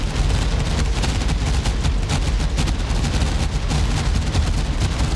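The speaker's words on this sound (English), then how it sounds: "looks like we have all 100 SAMs firing" Massed missile launches from dozens of SAM sites in a base-defense video game, a dense, continuous roar of overlapping launches and blasts, loud and sustained with no pauses.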